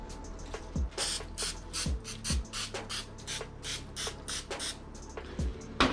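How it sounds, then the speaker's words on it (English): Oil is sprayed onto chicken wings in a quick series of short, sharp hissing bursts, about a dozen in all at an uneven rhythm, with faint handling knocks between them and no talking. "I'm gonna spray them with a little bit of oil."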